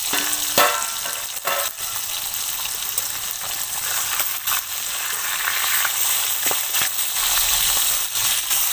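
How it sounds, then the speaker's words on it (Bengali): Magur catfish pieces fry in hot oil in a pan, a steady loud sizzle and crackle with brief stirring clatters over it, no talking. "এই দেখুন মাছটা আমার ফুটছে দেখুন"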